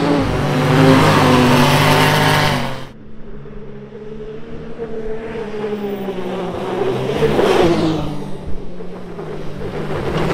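A loud 2024 Can-Am Maverick R X RS side-by-side engine revs hard and close, drops abruptly, then idles and climbs again in a rising rev before easing off.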